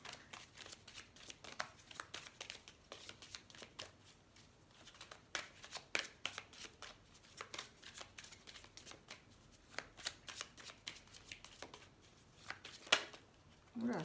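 Tarot cards shuffled by hand, a soft, continuous flutter of riffles and slides with sharp card snaps scattered throughout, close and quiet, with no talking.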